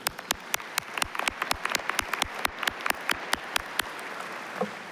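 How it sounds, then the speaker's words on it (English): Applause at a university commencement ceremony, steady crowd clapping filling the hall with sharp individual claps standing out over a continuous wash of hands. "Let's give her a round of applause."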